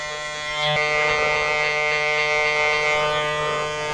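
Electric hair clippers cutting a textured crop with a fade give off a steady close buzzing drone, holding an even tone throughout with slight variations as they move through the hair.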